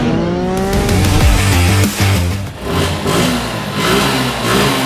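A used 1000 cc motorcycle engine is revved hard nearby, throttle blips rising and falling in loud, harmonic-rich bursts with brief dips between pulls.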